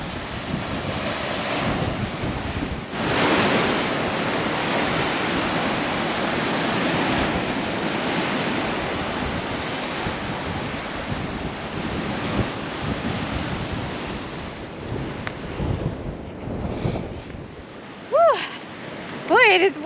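Loud, continuous wind rumble over ocean swell crashing against shoreline boulders at the Bay of Fires, a broad roaring wash with occasional gusts buffeting the microphone.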